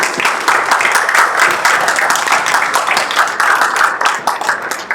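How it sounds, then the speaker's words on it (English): A large audience breaks into a standing ovation at an event, with sustained, dense applause that stays loud and steady for the whole stretch, with no speech over it. "I think you need a big round of applause and a standing ovation."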